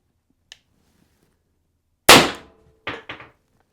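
Sharp cracks from a Pistelle X68 CO2 air pistol: one loud shot followed by two quicker, quieter pops, with a tiny click before them and no talking.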